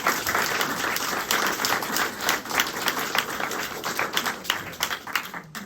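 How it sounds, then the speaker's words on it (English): Audience at an educational psychology conference session applauding its presenters, dense sustained clapping from a crowd filling the room, steady throughout and fading slightly at the end. "Just another round of applause for all of our presenters today."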